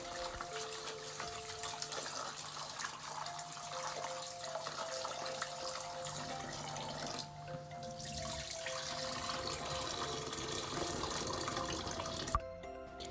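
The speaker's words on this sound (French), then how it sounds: "La seconde étape consiste à décortiquer le poisson fumé et de le rincer." Smoked fish being rinsed under a running tap, a steady broadband rush of water into a sink that runs continuously throughout, with faint tonal hum in the background and no talk.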